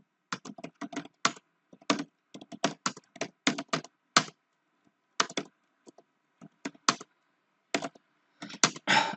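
Names are typed into an Excel sheet on a computer keyboard: quick bursts of crisp close key clicks in irregular runs, separated by short pauses, with no talking.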